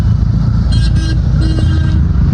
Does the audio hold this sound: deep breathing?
no